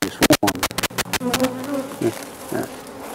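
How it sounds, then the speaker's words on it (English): Honey bees on a hive frame with capped drone comb, a close, busy buzzing hum that swells and fades through a series of sharp handling taps and knocks against the frame, with brief quiet moments of voice. "The bees are really getting this one."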